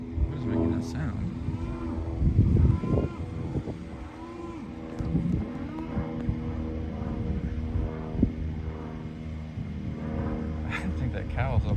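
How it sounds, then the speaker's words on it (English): A cow out in the Texas countryside moos loudly several times, long drawn-out lowing calls close by over steady outdoor background noise. "He came all the way out of the woods to come moo at me."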